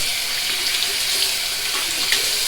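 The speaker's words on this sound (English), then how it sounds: "You want to run it under warm water or cold water to get the soap out." Shaving brush for safety razor shaving rinsed under a running tap, a steady splashing hiss of water streaming into a sink, close and continuous with slight shifts as the brush moves through the flow.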